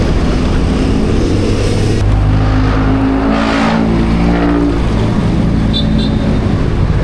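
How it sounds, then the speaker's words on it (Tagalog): Jeepneys and other vehicles in Philippine road traffic make a loud, close engine roar and drone that swells as a vehicle passes, with a voice briefly heard in the din. "Nakatakot rin talaga yung yung tunog ng mga jeep."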